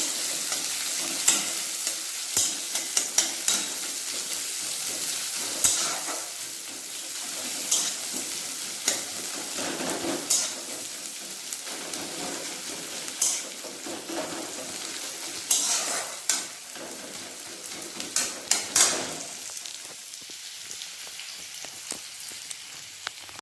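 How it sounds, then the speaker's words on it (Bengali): Chopped onions frying in a pan until brown for a bata fish curry, a steady close sizzle broken by repeated sharp scrapes and clinks of a spatula stirring against the pan, with no talk. "পেঁয়াজ কুচিটা ভালোভাবে ব্রাউন করে ভেজে নেব।"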